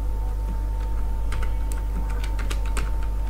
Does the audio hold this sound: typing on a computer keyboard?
yes